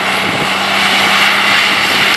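A loud, steady tractor engine drone rumbles continuously and close by, with no breaks.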